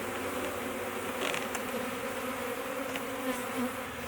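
A honey bee swarm in the air during transfer into a Layens hive, a continuous soft buzzing hum of many bees surrounding the listener, fairly faint and steady.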